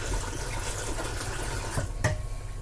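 Tap water running steadily into a pasta bowl in a home kitchen, a continuous broadband rush with a couple of brief splashy bursts near the end.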